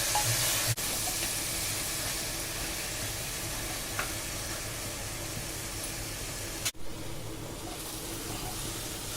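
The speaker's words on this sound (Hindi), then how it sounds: "सारे मसाले अच्छे से भून जाए, कटहल में अच्छे से मिक्स हो जाए।" Jackfruit pieces fry with spices in a pan, making a steady, even sizzle and hiss throughout, broken by a couple of sharp clicks from stirring.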